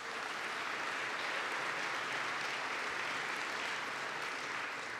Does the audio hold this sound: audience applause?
yes